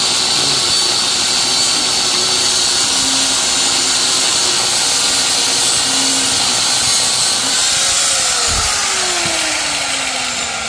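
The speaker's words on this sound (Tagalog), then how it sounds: "nagagrinderin na yung magneto, ayaw matanggal" Angle grinder cutting into the magneto of a Honda Click motorcycle engine: a loud, steady, continuous grinding whine with broadband hiss that holds for the whole stretch, close and unbroken.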